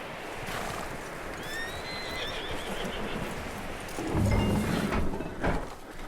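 Horse in the Western video game Red Dead Redemption 2 gives a shrill whinny, followed by clip-clopping hooves and snorting over a low outdoor ambience.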